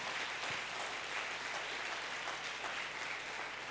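A church congregation at a family worship service breaks into loud, sustained applause, a dense wash of clapping filling the hall without a break.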